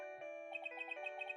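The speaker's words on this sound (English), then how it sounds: "What kind of ringtone is that?" Cell phone ringtone in the Ace Attorney video game, a short electronic melody of bright repeating chimed notes, clean and close with no talk.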